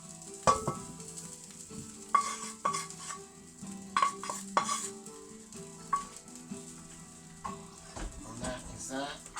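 Sliced mushrooms tip into a hot pan for a focaccia topping and fry with a soft, constant sizzle, broken by repeated metal spoon clinks and scrapes as they are stirred, close and fairly quiet.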